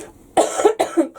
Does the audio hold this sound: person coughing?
yes